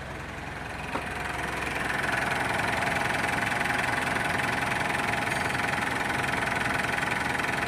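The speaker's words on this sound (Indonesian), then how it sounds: "ini juga mesinnya sangat getar sekali kalau kita lihat dari sini" A Mitsubishi Pajero Sport engine idles with heavy vibration, a steady low rumbling drone with a rough, knocking texture, heard up close and constant throughout, with a faint click near the start.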